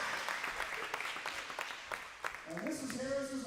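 Applause from a crowd at a girls volleyball game, a steady wash of clapping for a few seconds that fades as a voice speaks over the end.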